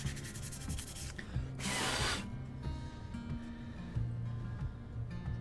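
Carved wooden scales are sanded by hand with 320 grit sandpaper, a close, continuous rasping rub with one louder, brighter burst of scrubbing over a steady low hum.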